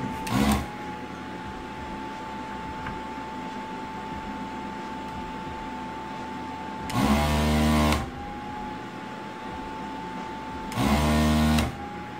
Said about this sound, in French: On va repasser à la pompe à dessouder